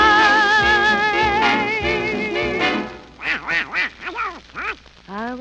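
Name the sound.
Donald Duck style quacking voice imitation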